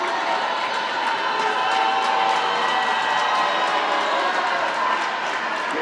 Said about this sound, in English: Westlake's crowd getting a little rowdy.